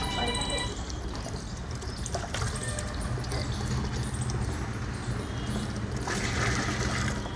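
Water gushes from a leaking water pipeline on a residential street in Vadodara, a continuous splashing pour under a busy outdoor background, with people talking nearby.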